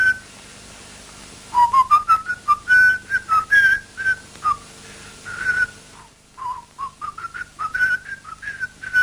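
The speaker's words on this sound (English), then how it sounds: "even the whistling of the Peer Gynt theme was redone" Someone whistling Grieg's Peer Gynt theme in a film soundtrack, a clear, fairly faint solo whistled melody in short phrases with brief pauses, over a low steady hum.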